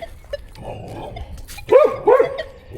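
Two loud, close dog barks ring out in quick succession toward the end, following a stretch of quieter background noise.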